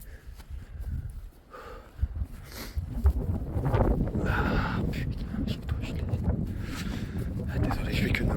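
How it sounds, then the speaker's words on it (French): Steady wind rumbles and buffets the microphone throughout at a campsite, a low continuous roar with gusts swelling and easing. "je te jure que le vent c'est l'enfer"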